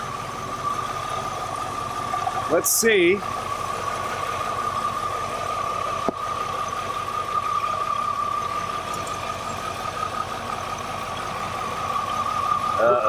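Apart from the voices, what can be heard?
flood-damaged Cadillac Allante engine idling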